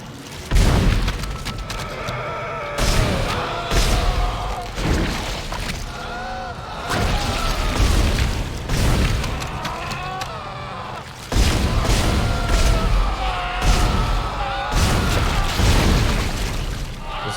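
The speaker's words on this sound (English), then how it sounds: "Does it just keep shooting bad guys?" Gunfire and booming impacts from shooting enemies in the Dead Space video game, loud heavy bursts repeating every couple of seconds with dense game noise between.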